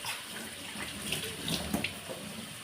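Water pours from a kitchen tap during lunch cooking, a steady splashing trickle with a few brighter drips and spatters, close and fairly quiet, with no voices.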